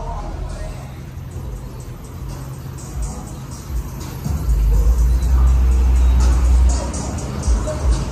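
A Dodge Redeye Hemi engine rumbles close by in a deep, low idle that swells louder partway through, with people talking over it.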